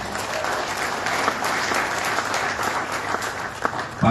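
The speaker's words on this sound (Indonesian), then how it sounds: "Boleh tepuk tangan." Dense, steady applause from a large crowd at a Democrat party break-fast gathering during a political speech, loud and continuous throughout with no voice over it.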